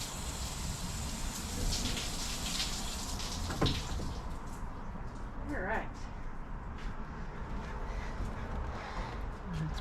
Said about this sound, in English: I'm gonna go give it a quick rinse and get all the rest of this dirt off it.